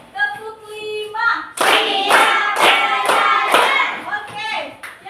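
Group hand clapping in a counted classroom game: after a spoken call, a run of five or so loud, crisp claps in steady rhythm, with children's and adult voices around them.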